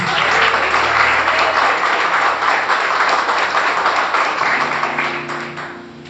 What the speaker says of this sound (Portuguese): Alguém pode dar uma salva de palmas para Jesus?